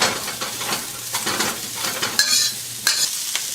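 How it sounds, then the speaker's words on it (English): Celery, onions, and red and green peppers stir-fry in a hot wok, with a steady loud sizzle broken by repeated scraping and tossing strokes of a utensil against the metal. "So we're just going to give that a quick stir fry."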